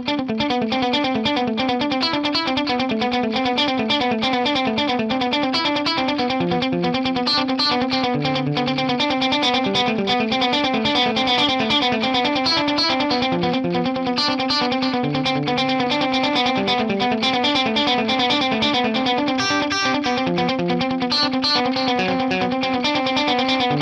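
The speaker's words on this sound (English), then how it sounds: "Got that very aggressive percussive 80s style echo going on." An electric guitar runs through an aggressive, percussive 80s-style delay at about 140 BPM, with fast repeating echoes stacking into a dense, continuous rhythmic pattern, loud and steady with no talking.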